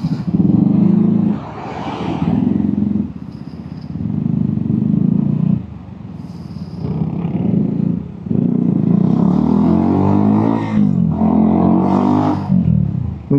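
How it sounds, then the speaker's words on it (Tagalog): Cars and motorcycles sit stuck in a traffic jam, engines idling and revving close by in uneven swells, with an occasional clatter and no talk. "traffic dito, stranded, walang galawan"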